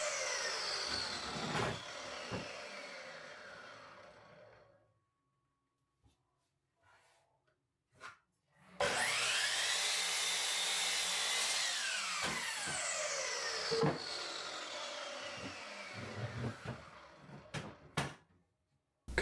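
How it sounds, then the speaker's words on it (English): A power saw cuts a wooden 2x6 board into 40-inch lengths in two loud, close bursts, each motor whine winding down afterward, followed by a few sharp knocks and clunks of handled wood. "I cut this 2x6 into 2 40-inch parts"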